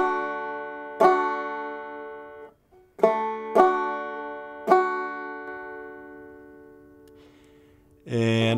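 Clawhammer banjo plays New River Train with all downstrokes: a few bright plucked chords ring out and decay, spaced unevenly with a short gap, close and alone, ending in a brief louder burst.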